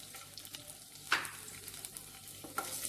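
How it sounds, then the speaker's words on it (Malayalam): Fifteen garlic cloves sizzle in hot oil in a pan, a continuous close frying hiss with a few louder spatters and stirring scrapes. "ഇതിലേക്ക് എടുത്തു വെച്ച വെളുത്തുള്ളി 15 അല്ലി ഇട്ട് കൊടുക്കാം"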